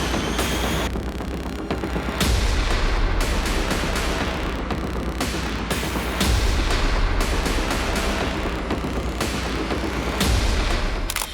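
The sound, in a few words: sniper rifle gunfire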